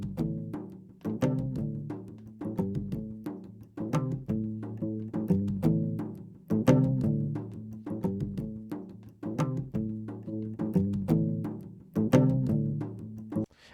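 A plucked bass line with steady rhythmic notes, full and warm, with reverb blended in on a parallel send, giving a roomy reverberant tail that blends the notes together; no voices.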